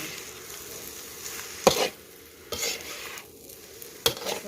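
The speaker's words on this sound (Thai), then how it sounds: "จับกระทะให้แน่นผัด คลุกเขาให้เข้ากัน" A spatula scrapes and tosses food around a hot wok in three sharp bursts over a constant sizzle, close up, with no talking.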